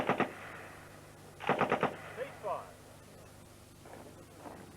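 A Lewis machine gun fires outdoors in a trench training exercise: a short burst at the start, then a louder rapid burst of about five shots, followed by a few fainter distant reports.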